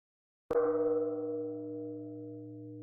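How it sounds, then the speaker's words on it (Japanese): A single deep Japanese temple bell struck once, its clear metallic tone ringing on and slowly fading into a long sustained hum. "神社とかお寺では鐘を鳴らします。"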